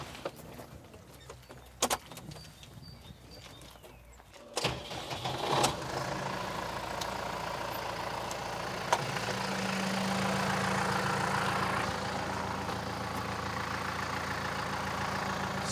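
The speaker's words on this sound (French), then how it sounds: "je démarre le tracteur, comme ça je vais vous montrer après comment ça marche" A tractor engine cranks and catches about five seconds in, after a stretch of quiet background, then settles into a steady, fairly close idle that grows slightly louder and fuller toward the end, with no voices.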